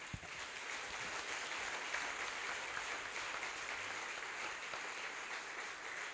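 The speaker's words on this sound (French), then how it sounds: "Je voudrais que tu acclames très fort Jésus." A church congregation applauds Jesus at a year-end worship seminar, a steady, moderately distant wash of many hands clapping that holds evenly throughout without pause.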